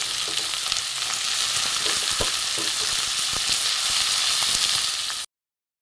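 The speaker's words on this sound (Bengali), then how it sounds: "বন্ধুরা আলু পেঁয়াজ মোটামুটি ভাজা হয়ে গেছে" Potatoes and onions fry in a pan with a loud, even sizzle and a few sharp stirring clicks, close and continuous until it stops abruptly.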